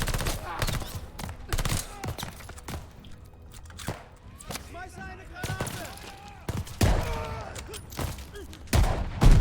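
Rapid bursts of gunfire and shotgun blasts crack out in a Call of Duty Vanguard match, loud sharp reports spaced irregularly, with a voice talking between and over them.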